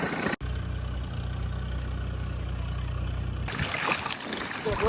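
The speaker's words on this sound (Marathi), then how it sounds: "एकीकडे ट्रॅक्टर चालू आहे गाळ करण्यासाठी" A tractor puddling a flooded rice paddy for transplanting, with a steady low engine drone and chugging throughout, briefly cut at the start and giving way to louder outdoor noise near the end.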